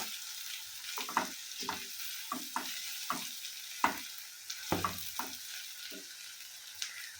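Spices for a homemade chili pickle are stirred in hot frying oil: a soft continuous sizzle broken by repeated scraping strokes of a spoon against the pan at an irregular, unhurried pace, with no talking.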